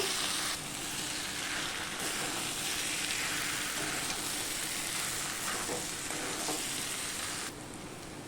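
Fried papaya and potato pieces hiss in a hot pan for a vegetarian papaya dish, a steady close sizzle that holds throughout with no talking.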